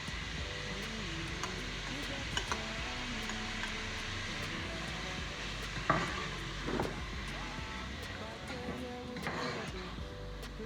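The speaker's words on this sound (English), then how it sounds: "You allow them fry for 2 minutes." Ingredients fry in a pot for beef stew with chili added, giving a steady close sizzle throughout with a few louder stirring scrapes around the middle and near the end.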